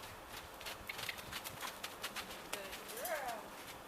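A horse cantering in short bursts, its hoofbeats faint and rhythmic beneath ambient noise, with birds chirping in the background.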